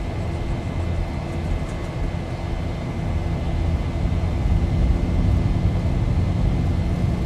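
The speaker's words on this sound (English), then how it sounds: "Takeoff power set." Simulated Boeing 737-800 jet engines at takeoff power in the X-Plane 11 flight simulator, a steady loud low roar and rumble that swells slightly and holds throughout with no talking.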